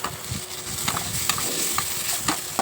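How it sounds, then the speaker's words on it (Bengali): Ground cumin, chili, coriander and turmeric fry in hot oil for jackfruit kofta curry, with a soft continuous sizzle broken by a series of sharp scraping stirs of a spoon in the pan. "দিয়ে একটু কষিয়ে নিতে হবে"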